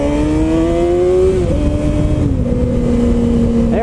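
A Yamaha R6 sport motorcycle's engine runs loud and close for the whole stretch, giving a steady high whine whose pitch steps down slightly a couple of times.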